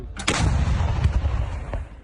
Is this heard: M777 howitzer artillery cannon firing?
yes